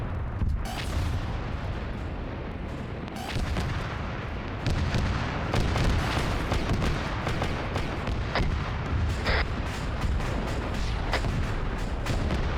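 Air-to-ground missile striking a tank in a video game, heard as booming artillery-like blasts and crackling gunfire layered in a loud, continuous battle din with sharp impacts scattered throughout.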